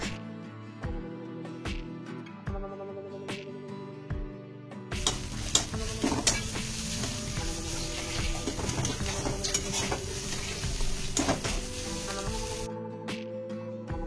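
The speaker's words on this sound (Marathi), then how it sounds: "आता हे सगळे जिन्नस एकत्र छान परतून घेऊयात." Turmeric and a coarse ground masala for vada pav being sautéed in a pan, with a steady close sizzle and spoon stirring through the middle stretch, preceded and followed by sparse clinks.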